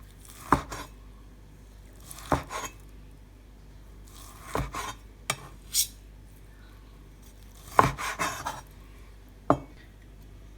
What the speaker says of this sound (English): And then just cut it into whatever size pieces you would like.